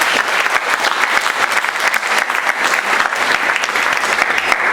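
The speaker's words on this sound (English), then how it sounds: "Please, a warm applause for Igor Tulchinsky." Loud, dense audience applause at a summit talk as the speaker is welcomed, continuous clapping from many hands close by with no pauses.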